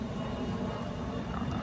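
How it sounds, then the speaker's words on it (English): A steady, broad engine roar of an airplane passing overhead, constant in loudness throughout, with no voices. "I have a spy plane going overhead right now"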